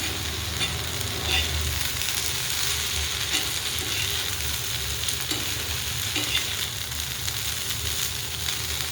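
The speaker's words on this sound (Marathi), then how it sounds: "इथे ठेवलेले आपण गवार भाजण्यासाठी थोडंसं तेल टाकून" Cluster beans (guar) fry in a little oil, giving a dense, steady sizzle with occasional stirring scrapes, close and constant throughout.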